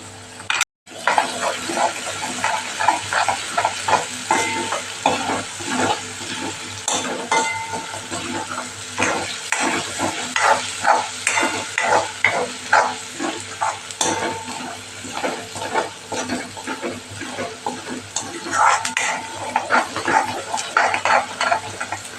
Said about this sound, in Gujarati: લસણ અને આદુની પેસ્ટ સતળાઈ ગઈ છે તો લીલા મરચાં ઉમેરી દઈશું